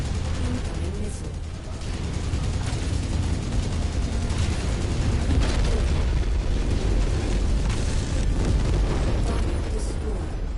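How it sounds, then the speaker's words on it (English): A missile explosion booms in MechWarrior 5: Mercenaries amid dense, continuous rumbling battle noise, loud and sustained throughout with repeated low impacts and mechanical clatter layered together. "Incoming missile."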